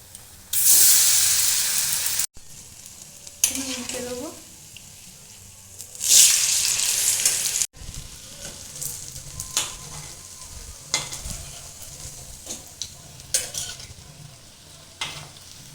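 Semolina snacks deep-fry in hot oil with loud bursts of sizzling and hissing as pieces drop in, then a softer, crackling bubble punctuated by stirring clicks.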